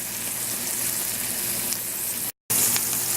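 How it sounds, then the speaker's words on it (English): Bacon sizzling in a pan on the stove, a steady close crackle and hiss that carries on without a break, cut by a short full dropout before it resumes at the same level. "I'm going to actually get the bacon cooking"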